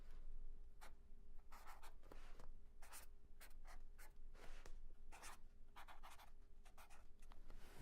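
Pen or pencil writing a music note on paper, close and faint, with soft scratchy strokes and brief pauses, steady throughout.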